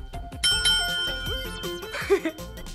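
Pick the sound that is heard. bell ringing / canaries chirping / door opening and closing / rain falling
bell ringing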